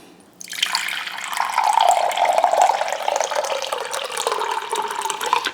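Warm water poured from a tap into a bowl for Mexican tortilla dough, a steady close splashing stream that starts abruptly and runs on without a break, with no talk over it.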